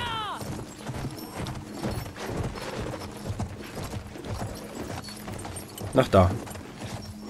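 Horse hooves clip-clopping while riding in Battlefield 1, a steady rhythmic trot with a brief whinny near the end, under people talking.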